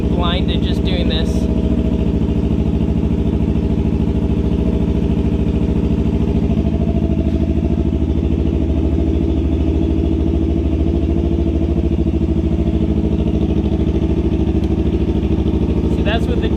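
A Yamaha R3 motorcycle idles steadily nearby, its engine a loud, even, continuous drone that holds throughout without revving.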